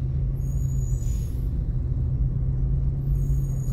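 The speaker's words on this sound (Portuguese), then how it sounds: "Som da viagem, dos freios da carreta descendo." A big bi-train truck rumbles low and steady descending a mountain road while sharp air-brake hisses release twice, once early and again near the end.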